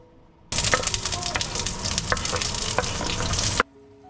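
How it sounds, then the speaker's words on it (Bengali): Biryani chicken sizzles and fries in a pan, a loud, steady crackle that starts abruptly and runs about three seconds with occasional stirring clinks before cutting off. "বিরিয়ানির চিকেনটা আমার কিন্তু প্রায় রান্না করা হয়ে এলো ওটাকে এখন একটু কষতে দিয়েছি"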